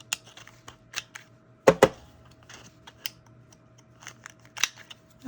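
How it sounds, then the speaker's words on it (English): Scissors snip the corners of old book pages in a series of short, crisp cuts, with one louder double snip near the middle, close and quiet in between. "You could just snip the corners"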